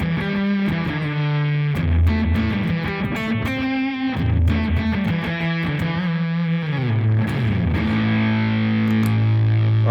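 Electric guitar played through a Marsling Otcafuzzdrive fuzz pedal with light slapback delay, thick distorted sustained chords and bends ringing out loudly and continuously, no voices.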